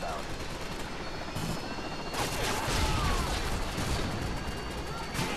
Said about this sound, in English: Who is shooting at me and missing horribly?